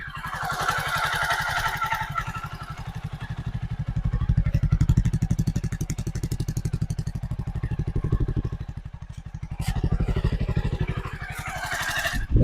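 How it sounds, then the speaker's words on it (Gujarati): A Jawa 42 cruiser motorcycle engine idles nearby with a smooth, even low thump, steady throughout with slight swells and a faint clatter. "એન્જિનનો અવાજ તમને સંભળાવી દો રેસ આપ્યા વગર"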